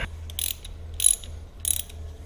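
Ratchet wrench tightening bolts on block-off plates during PAIR system removal on a 2007 Suzuki GSX-R1000, three short bursts of rapid clicking close by with pauses between, no talk.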